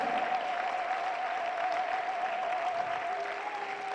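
A congregation at a mass prayer service applauds in a steady, dense wash, acclaiming the king of kings, with a sustained musical tone running underneath.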